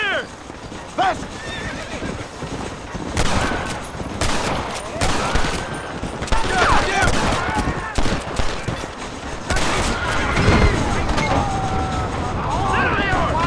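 Gunfire crackles through a Red Dead Redemption battle around a Mexican wagon train, mixed with galloping hooves, horse whinnies and shouted voices in a loud, busy scene.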